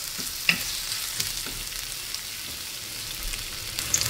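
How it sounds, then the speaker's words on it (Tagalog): Onions sautéing in a pan for ginisang upo with sardines: a steady, soft frying sizzle with a few light utensil clicks and taps near the start and end, no voices. "Haluin lang natin ito mabuti. Igisa lang natin ito."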